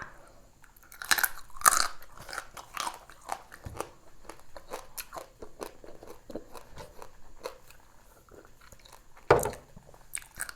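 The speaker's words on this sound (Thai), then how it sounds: "กินทั้งกระดองบางทีมันก็ แข็งดีมันดี" Close, crisp crunching and chewing of a raw live crab eaten whole, hard shell and all. Irregular loud bites burst near the start and again near the end, with softer mastication between and no talk.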